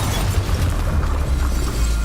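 Expelliarmus cast during a Hogwarts Legacy duel, heard as a loud, dense magical blast with a heavy low rumble that keeps up without a break.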